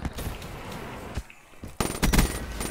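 Gunfire in a shooter video game: dense rattling bursts of automatic fire throughout, dropping briefly quieter midway before a louder, harder burst returns near the end, with no talk over it.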